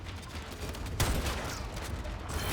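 Gunfire in Warframe aimed at a Frost Spectre's head: a sharp burst of shots cracks out midway over a low game rumble, with no talking.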